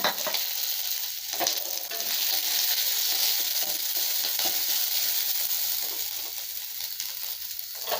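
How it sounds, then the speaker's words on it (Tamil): Urad dal, chana dal and cumin seeds frying in hot oil give a continuous, loud, close crackling sizzle with a few brief stirring knocks, and no voices. "வெள்ளை உளுந்த பருப்பு, கடலைப்பருப்பு, சீரகம் போட்டுடலாங்க. பொரியுதுங்க, நல்லா பொரியுதுங்க."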